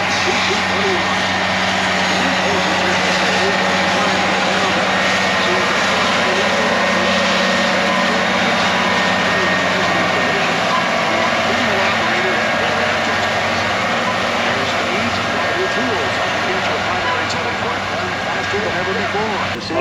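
A John Deere high-horsepower tractor of around 830 horsepower pulling a big field tool through a corn field, giving a loud, continuous, steady engine roar throughout with talk over it.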